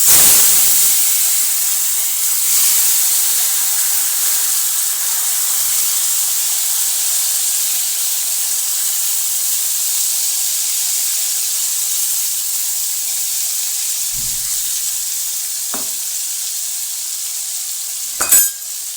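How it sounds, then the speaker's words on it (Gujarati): Chopped onion hits hot tempering oil already spiced with cumin, asafoetida and pav bhaji masala, setting off a loud, even hiss that stays strong throughout, with a few faint clicks near the end. "હવે આપણે તેમાં ડુંગળી નાખી દઈશું।"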